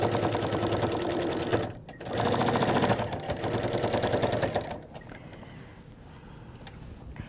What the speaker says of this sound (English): And we're going to back stitch again at the bottom.